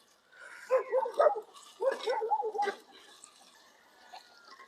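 Dogs bark in two quick bursts of several sharp barks each, moderately close, then fade to quiet with a faint yip.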